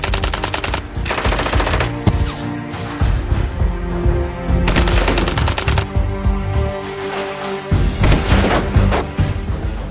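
Intense automatic gunfire from a firefight with terrorists rattles loud and close in long sustained bursts separated by brief pauses, with booming, heavy reports throughout.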